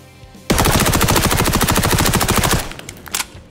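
MP5 submachine gun in XDefiant firing a loud, rapid sustained burst of about two seconds, followed by a few scattered trailing shots and clatter.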